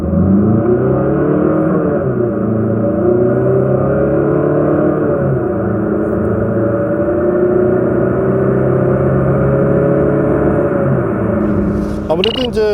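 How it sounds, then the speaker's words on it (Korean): A Citroen C4 Cactus with a small engine of about 100 horsepower pulls away from a standstill, its engine note climbing steadily and strongly up through the revs for several seconds before easing off at the end, with someone talking over it. "이번에는 칵투스의 발진 가속 성능에 대해서 알아볼까요?"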